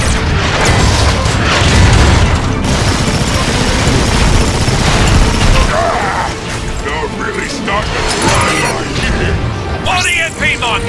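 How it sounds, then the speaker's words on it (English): Heavy airstrike explosions boom and crash through Transformers: Fall of Cybertron, a loud, sustained barrage of blasts and rumbling debris with a voice calling out over the chaos. "Airstrike commencing!"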